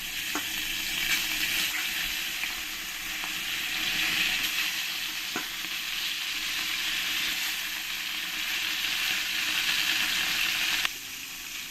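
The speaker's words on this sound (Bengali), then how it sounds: "আমি এই পরের মাছগুলো একই রকমভাবে সব ভেজে নেবো" Pieces of pona (rohu) fish fry crisply in hot oil in a pan for a curry with taro. A steady, loud, dense sizzle crackles throughout without pause, and no voices are heard.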